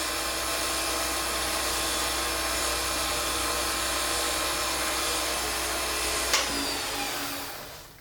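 A lathe drones steadily while a wax finish over a CA coating is polished on a spinning pen blank, a loud, even whir with a faint rubbing hiss, then a brief knock as the motor winds down.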